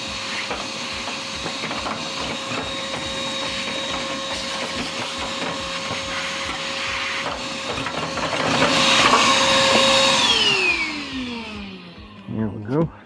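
A vacuum cleaner sucks debris out of a Samsung dryer during a heating element repair, a steady whining drone that swells louder near the end before the motor winds down and cuts off.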